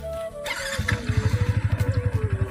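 A new motorcycle starts up and settles into a steady, loud idle with an even, rapid engine pulse, close by, after a brief clatter at the start.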